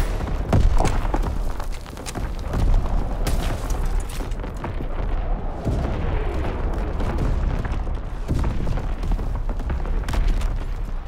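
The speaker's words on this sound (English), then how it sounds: "Incoming enemy artillery! Get to cover!" Enemy artillery fire in a Call of Duty: WWII multiplayer match, a continuous loud rumble of booming blasts and thuds layered over battlefield noise for the whole stretch.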